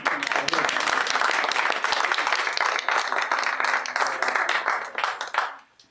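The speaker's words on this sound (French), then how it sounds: "Et puisque vous applaudissez" Audience applause at a charity day event in Lens, a dense, steady wash of clapping from a crowd that holds strong for about five seconds before tapering off and fading out.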